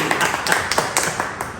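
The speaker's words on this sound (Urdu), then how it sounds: "تالیاں." A small studio audience claps at an Eid television programme event, giving scattered, uneven applause that stays fairly close and moderately loud.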